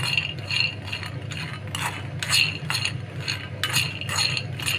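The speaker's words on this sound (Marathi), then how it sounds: "तुम्हाला मशीन पिळतानाचा आवाज येत असेल." A home washing machine spinning to wring out laundry gives a steady mechanical whir with repeated clicking, ratcheting bursts, moderately loud and without voices.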